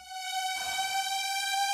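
A synthesized riser effect from a transform pack in a dubstep build-up, a sustained bright harmonic tone that swells steadily with a noisy texture joining partway through.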